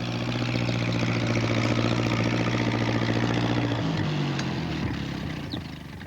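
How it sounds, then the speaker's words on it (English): A tractor engine runs steadily with a droning, pulsing idle, fairly loud and close, then the pitch drops and the sound eases off near the end. "Here comes Alf. He's going to try to get through with his tractor."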